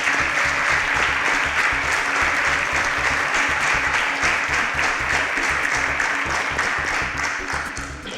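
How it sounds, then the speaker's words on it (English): A studio audience at a televised school maths quiz applauds a contestant after a correct answer, sustained loud clapping from many hands that holds steady for about eight seconds and then fades slightly at the end. "Round of applause for Oganero."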